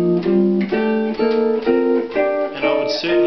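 Jazz guitar plays rhythmic chord voicings, a series of short, close-miked strummed chords with a steady pulse, heard alone without any talking.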